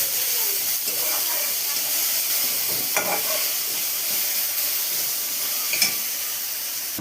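Masala for a banana-flower ghonto is stirred and fried in a pan with chopped green chillies, a steady hissing sizzle broken by a few scraping spatula strokes.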